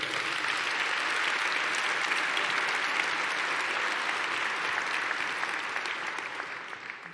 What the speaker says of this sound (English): let's applaud the parents and the educators and everyone who helped make pre-K happen